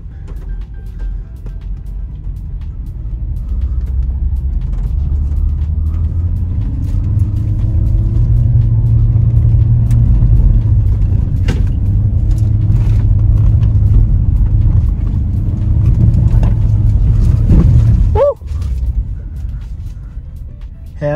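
A car's engine drones steadily from inside the cabin while driving along a road under reconstruction, a loud, even low rumble that swells gently and then dips near the end.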